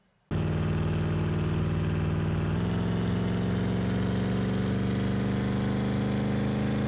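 A video game car's engine starts abruptly and settles into a steady, loud idle with a constant low hum that shifts slightly in pitch partway through and otherwise holds unchanged, with no voices heard.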